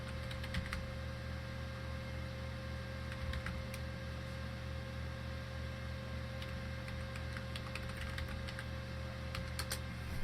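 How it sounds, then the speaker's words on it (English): Steady computer keyboard typing in a room with constant background hum, keystrokes clustered in short bursts and pauses across the whole stretch, fairly close and moderately loud. "I had to type it because I can't."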